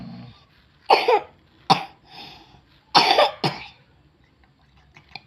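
A child with a cough during a massage coughs in two close pairs of sharp, rough bursts, near and clear, with quiet breathing and faint handling noise in the gaps.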